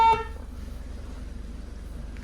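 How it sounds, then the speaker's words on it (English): A short single-tone toot from a Mazda-sourced horn on a 2016 Scion iA, quick and clear at the start, then a low steady idle hum continuing alone. "Mazda sourced horn."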